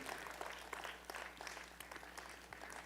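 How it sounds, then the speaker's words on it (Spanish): A church congregation applauds in a steady, dense wash of many hands that sounds faint and distant, without a clear break or a voice over it. "¿Podemos dar un aplauso al Señor por eso?"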